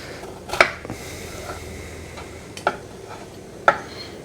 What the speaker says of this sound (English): So I'm going to cut them into squares like this